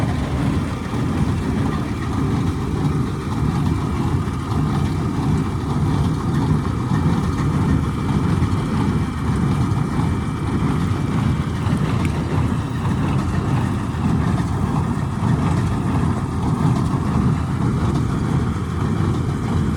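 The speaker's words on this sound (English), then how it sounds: "My good pal Andy up in the tractor" Tractor engine running near a large square baler, a steady low rumbling drone held at constant loudness for the whole stretch with no talk.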